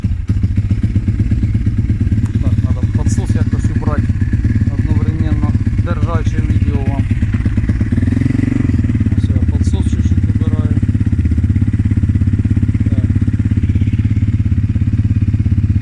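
A Forte 300 motorcycle engine runs loud and close with the throttle held slightly, a dense steady drone with a brief rise in revs midway, while someone talks over it in the first half.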